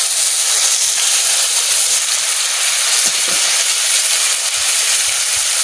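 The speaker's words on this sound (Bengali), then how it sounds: "যে মশলাটা বাটিছি সেই মশলাটা আমি তেলের পরে দিয়ে দিচ্ছি।" Ground raw spice paste frying in hot oil, giving a steady, loud sizzle and hiss throughout with no pauses and no voices.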